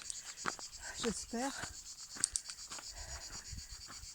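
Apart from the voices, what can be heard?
crickets chirping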